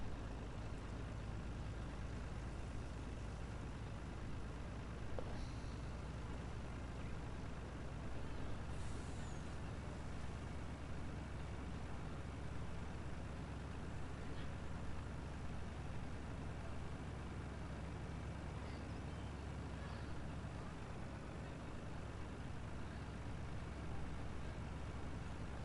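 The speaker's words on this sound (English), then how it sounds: "I like the sound of these lorries, these trucks, sound awesome." Trucks and lorries in Farming Simulator 19 rumble in a steady, continuous low drone with faint air-brake hisses rising now and then, holding at an even level throughout and heard alone, with no talking over them.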